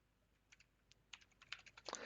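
Keys on a computer keyboard are typed in a short, quiet burst of light clicks, sparse at first and then quickening toward the end, heard close with no talking.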